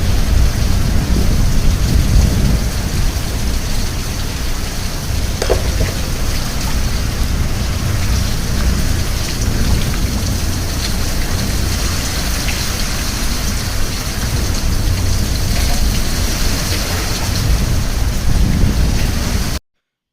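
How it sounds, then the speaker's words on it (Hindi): Heavy rain pours without let-up during a violent early-morning storm, a loud dense roar of water on a rooftop with thunder rumbling underneath throughout, and no voices. "तो उतनी तेज़ बादल भी गरज रहे थे"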